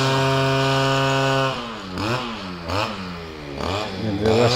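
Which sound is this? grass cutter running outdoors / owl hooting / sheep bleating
grass cutter running outdoors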